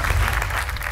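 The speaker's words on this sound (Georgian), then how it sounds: "აპლოდისმენტები." Studio audience applause on a television game show, a brief, dense burst of clapping heard up close.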